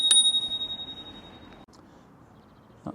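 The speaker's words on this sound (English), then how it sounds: "The little bell's cool." A small bell on a Fafrees F20 Pro folding ebike gives a bright single ding that rings out and fades, followed by a faint second tap.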